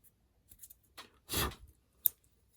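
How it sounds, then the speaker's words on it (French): Scissors trimming a few stray fibres on a fly-tying hook: a couple of faint, close snips and a short rustle, then a sharp click, in near silence. "Après, éventuellement aussi 2-3 fibres un peu rebelles, je viens les couper."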